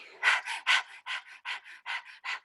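A person imitates a dog panting, making about ten quick, breathy huffs in an even rhythm. The huffs are moderately loud and close, with no other sounds around them.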